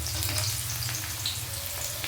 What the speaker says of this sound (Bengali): এবারে তেলের ভেতর দিয়ে দিচ্ছি কুচিয়ে রাখা পেঁয়াজ